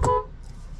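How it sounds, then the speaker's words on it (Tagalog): A single short car horn toot sounds close by in a 2024 Volkswagen Taru 300 TSI, a quick bright honk that cuts off, leaving quiet interior hum. "Nice horn, very European."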